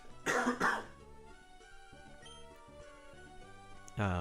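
Two harsh human coughs come close together near the start, with another cough at the very end, all over quiet background music.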